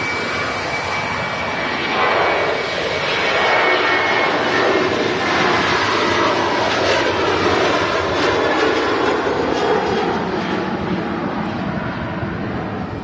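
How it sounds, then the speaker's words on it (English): Ryanair Boeing 737 Max 8200 touching down at Manchester Airport, a loud steady roar of jet engines sustained throughout with a gentle swell in the middle and no voices. "Another aircraft touching down. Another Ryanair, actually"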